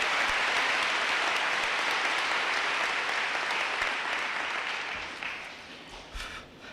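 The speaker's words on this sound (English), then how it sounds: "Yeah, let's hear a round of applause, yeah." An audience gives a sustained round of applause for the teachers at a 2015 class speech, dense and steady at first, then thinning and tapering off toward the end.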